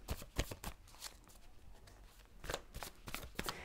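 Tarot cards riffled and shuffled in the hands in a few quick rustling bursts with short pauses between, close up and fairly quiet, with no talk over them.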